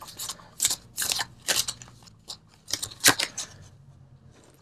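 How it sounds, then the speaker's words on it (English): Tarot cards are shuffled and pulled close up in a love reading, producing quick bursts of riffling and flicking card sounds separated by short pauses. "So let's pull the universal love cards."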